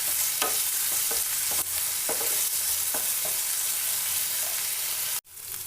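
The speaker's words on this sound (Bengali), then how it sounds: "আলুগুলোকে আমরা একটু গোল্ডেন করে ফ্রাই করে নেব।" Potatoes fry in oil in a pan, turned until golden in a village kitchen, with a constant close sizzle and repeated stirring scrapes, ending in a sudden brief cut-off near the end.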